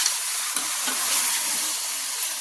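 Village chicken curry being stirred in hot oil in a pan, cooked the traditional way rather than in a pressure cooker: a steady, close sizzle and hiss with soft scraping stirs, no talk.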